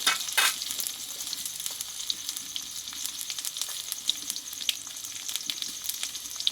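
Potatoes sautéing in a pan with salt and turmeric, a steady close sizzle with occasional stirring scrapes and a brief louder burst near the start, no voices.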